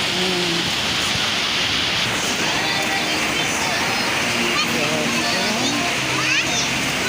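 Floodwater rushes without a break in Baybay, a dense, steady wash of flowing and splashing water heard up close. Voices talk over it throughout.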